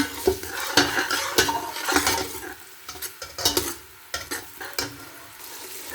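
Onions frying in oil for a pasta dish, a steady sizzle broken by repeated scrapes and clinks of a spoon stirring against the pan, close and fairly loud.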